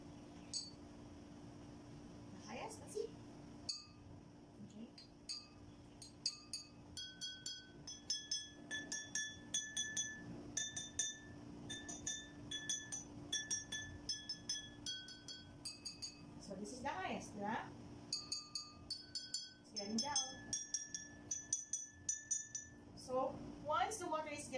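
Glasses holding different amounts of water ring out as they are struck on a homemade glass xylophone. Bright clinking notes come in uneven sequences, with quieter voices talking between the runs of taps.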